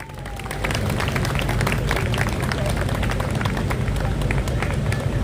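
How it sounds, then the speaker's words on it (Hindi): An audience at a Hindi poetry event breaks into loud, sustained applause for poet Vandana Siddharth, dense clapping that fills the hall steadily throughout. "वंदना सिद्धार्थ जी के लिए जोरदार तालियां।"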